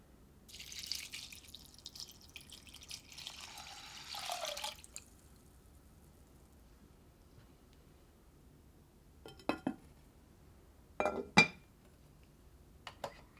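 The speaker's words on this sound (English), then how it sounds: "Pour the rice in a clay pot and add 400 to 450 milliliters of water." Water is poured over soaked rice in a clay pot, a short splashing stream near the start, followed by quiet and a few light clinks and drips, all soft and close.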